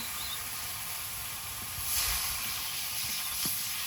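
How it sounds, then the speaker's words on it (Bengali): Water poured onto chili powder and spices frying in oil gives a steady, broad hiss that swells briefly partway through, with no talking. "লঙ্কার গুঁড়ো মশলাটা সুন্দরভাবে কষিয়ে নিয়েছি তেল ছেড়েছে এবার জল দিয়ে দেব"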